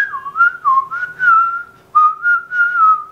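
A person whistles a short, wavering tune, several bright phrases with a brief pause midway, clear and close with no talking.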